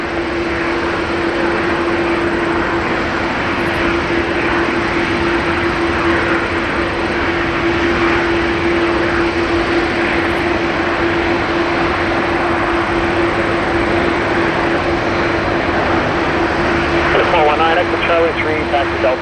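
Aircraft engine at Toronto Pearson airport roars steadily for the whole stretch as a plane takes off, a loud, broad and continuous rush with a constant hum beneath it and faint voices in the background.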